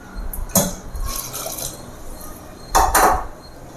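Water poured into a pressure cooker pot with turmeric and a little oil, for kolambu: two bursts of splashing, filling liquid about two seconds apart, close and fairly loud, with no talk.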